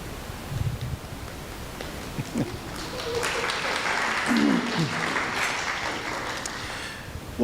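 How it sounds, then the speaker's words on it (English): Guests at a wedding reception applauding the father of the groom, a broad wash of clapping that builds midway and holds steadily, slightly distant, with some rustling and faint voices. "Now let's hear that big applause for Mr. John Shelton, please, father of the"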